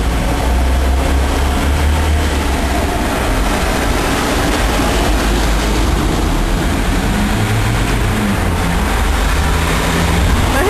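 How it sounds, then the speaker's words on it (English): Heavy London traffic with lorries and vans rolling past, a dense, loud, continuous rumble and roar of engines and tyres with no break. "Damn thing with the lorries going by,"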